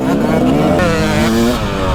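A motocross motorcycle ridden on a track, its engine revving loudly and continuously with a rising and falling pitch, close up and steady throughout.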